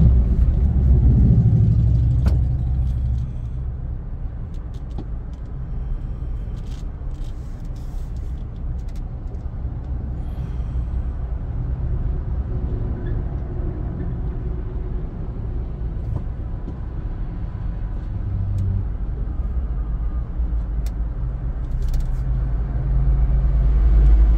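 Road traffic with cars and heavier vehicles passing, a continuous low rumble of engines and tires with swells as vehicles go by, and no talking.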